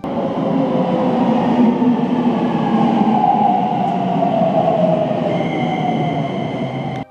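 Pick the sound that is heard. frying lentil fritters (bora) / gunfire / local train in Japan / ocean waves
local train in Japan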